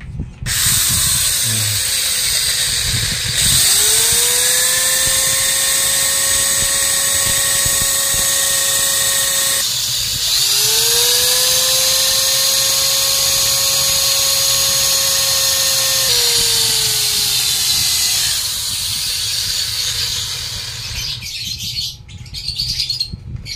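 Power drill boring holes into a PVC check valve housing whines loudly, spinning up twice to a steady high pitch over harsh grinding noise, then winding down near the end.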